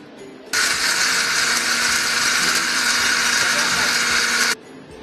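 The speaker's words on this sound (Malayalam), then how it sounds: "ഇനി നമുക്കിത് മിക്സിയിൽ പൊടിച്ചെടുക്കാം." Mixer grinder grinding roasted lentils into powder, a steady loud whirring roar that starts abruptly, runs about four seconds without pause, then cuts off.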